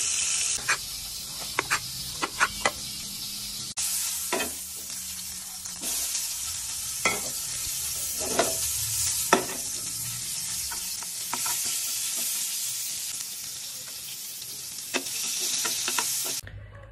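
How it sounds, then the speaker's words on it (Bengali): Shashlik skewers of meat and vegetables frying in a hot pan at home, a loud continuous sizzle and hiss with occasional crackles, pops and scraping stirs, heard close up with no talking. "সাসলিক ফ্যাসফ্যাস করতেছে, বুঝছো? আমি একটু ভাজি সাসলিক"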